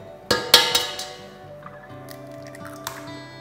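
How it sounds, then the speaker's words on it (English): An egg cracked and dropped into a bowl of bloomed yeast mixture for Buchteln dough gives a few quick close taps and a soft wet plop, then faint sloshing and small clinks. "Now that the yeast is ready and bloomed, we can add in the eggs."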